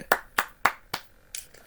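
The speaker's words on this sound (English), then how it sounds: "give a round of applause to this man" A small round of applause in a Paladins support ranking chat: five separate hand claps at an even pace, close and moderately loud, with no talking.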